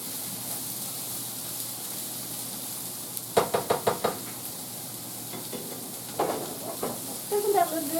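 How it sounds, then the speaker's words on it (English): Food heats in a pan under a constant soft sizzle and hiss, broken by a quick run of spoon knocks against the pan and later scraping stirs. "I'm just going to mix this all up in here and let it combine and heat up"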